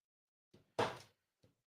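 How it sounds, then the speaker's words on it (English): Someone at a house's front door makes a short knock-and-bump sequence: a light tap, a louder thud, then a faint tap, heard alone and close by. "Someone's at my front door."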